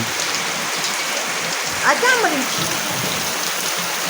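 Light rain falls in a village, a soft continuous patter and hiss, with a voice speaking briefly partway through.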